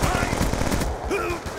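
Rapid automatic gunfire in the Black Ops 2 video game, during a team deathmatch in Yemen, rattles in dense bursts for about a second before tapering off amid game effects.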